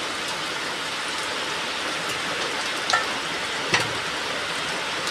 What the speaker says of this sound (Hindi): कितना जोर बारिश दे रहा है।